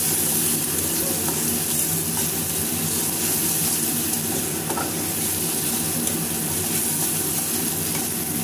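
Lentils (dal) fry in hot oil with a loud, steady sizzle and hiss, plus occasional scraping from stirring, with no voices.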